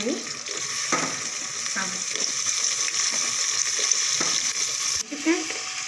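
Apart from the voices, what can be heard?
potatoes added to frying browned onions and stirred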